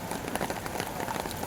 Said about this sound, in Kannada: ಮಳೆ ಅಂತೂ ಫುಲ್ ಬರ್ತಾ ಇದೆ.